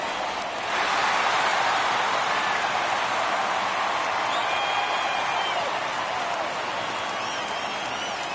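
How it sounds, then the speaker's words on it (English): Home crowd at a 2022 Twins baseball tiebreaker game roars with a loud, sustained wash of cheering and applause that swells about a second in and holds steady throughout. "These home fans, they are making a lot of noise, putting pressure on that pitcher out there."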